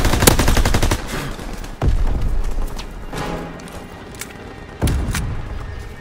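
Heavy gunfire rattles through a WWII video game battle, with dense bursts and sharp shots up front, then scattered distant firing and a couple of loud booming reports later on.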